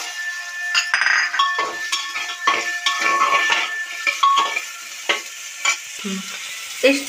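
Potatoes go into hot tempering oil in a pan with crushed dried lentil dumplings, giving a loud sizzle mixed with stirring and the clink of a utensil against the pan.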